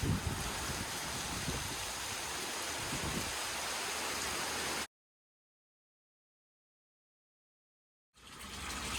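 Rain falls during a woodland hike in Brown County State Park, a dense, steady hiss that suddenly drops to silence before returning faintly.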